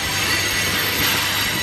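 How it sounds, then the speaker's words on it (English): A train passing close by with loud broadband rumble and squealing wheels on the rails, steady and continuous throughout with no talk. "Gosh, trains these days, right?"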